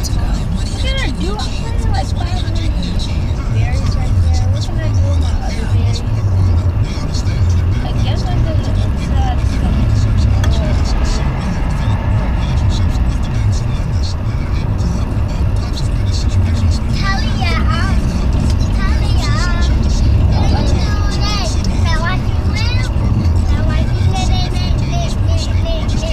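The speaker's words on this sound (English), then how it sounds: "It's gonna be a long car ride." Steady low rumble of a car's interior while driving on a road, a continuous, even engine and road drone that holds at the same level throughout with no breaks.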